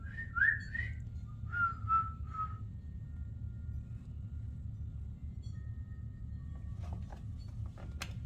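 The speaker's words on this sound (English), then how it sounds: "Why don't you do some whistling down there" A person whistles a few short, clear melodic notes near the start during a ghost investigation at the Thomas House, followed by quiet low rumbling background and a few faint clicks.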